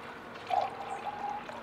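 Water poured from a bucket into a beaker for pH testing in a Somali water-chlorination setting, a steady close trickle and splash with a slight rise in level as the stream lands, heard alone for about a second and a half.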